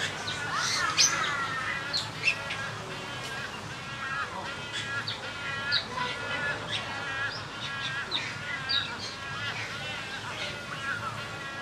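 Birds in a zoo bird habitat at an alligator farm call and chirp repeatedly, with harsh caw-like notes scattered throughout at moderate distance, and people talking in the clip.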